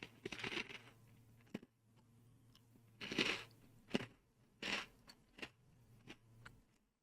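Close crunching and chewing of vanilla cupcake Goldfish Grahams crackers, several separate crisp bites and chews in bursts with short quiet gaps between them.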